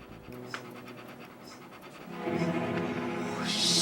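A dog pants indoors in an apartment, quick breathy rhythmic huffs close by that grow louder and more energetic toward the end, with light scratching or shuffling and no talk.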